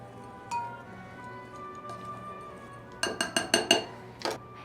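Dry ingredients with baking powder stirred in a bowl: a quiet, faint backdrop, then a quick run of five or six sharp utensil clinks against the bowl, with one more after a short pause.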